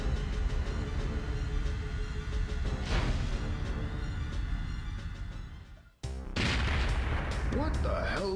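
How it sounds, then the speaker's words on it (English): Explosions and heavy gunfire in the video game Perfect Dark: a dense, loud roar of booms that cuts out abruptly, then bursts back in with more blasts and faint electronic tones. "Was that? An explosion."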